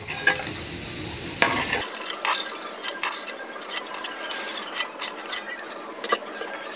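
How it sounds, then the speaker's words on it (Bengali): Potatoes frying in oil in a pan, giving a crackling sizzle broken by frequent spatula clinks and scrapes against the pan, with a low hum fading out early on. "2 মিনিট ধরে আলুগুলো ভাজতে হবে।"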